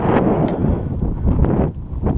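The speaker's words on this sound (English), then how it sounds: "Wind's at my back." Wind buffeting the microphone on a cold, snowy flying field, loud low rumbling gusts that surge and dip throughout with no other sounds.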